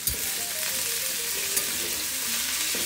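Okra stir-fries in a hot pan with a continuous, dense sizzle and occasional faint scraping, steady and close.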